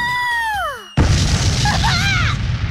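A cartoonish launch blast in a voice comic: a falling whistle-like tone drops away, then a sudden loud boom erupts into a roaring rush with warbling squeals layered on top, close and dominant.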